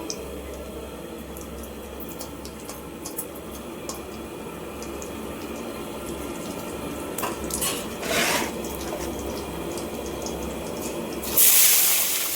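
Vegetables go into a kadai of hot oil spiced with panch phoron, dried red chillies and bay leaves, giving a continuous soft sizzle with a few utensil clinks and a sharper hissing burst near the end.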